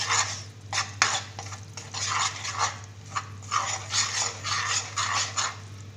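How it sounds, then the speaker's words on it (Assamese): Jaggery being stirred in a pot to break up its lumps, with irregular clinks and scrapes of a spoon against the metal pot over a low steady hum, no speech. "এতিয়া মই গুড়খিনি তেতিয়ালৈকে গুলি থাকিম যেতিয়ালৈকে ইয়াৰ সৰু সৰু টুকুৰাবোৰ নাথাকে।"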